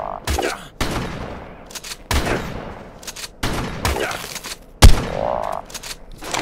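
Shotgun blasts in Ark Survival Evolved Mobile inside a glitchy dungeon room, several loud sharp shots spaced about a second apart with a ringing metallic tail after one, no talk over them.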